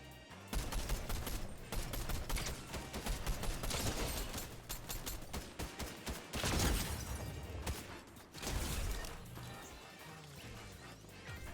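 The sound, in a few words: gunfire shooting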